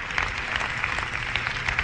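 A church congregation claps in a dense, continuous wash of applause, steady and moderately loud throughout.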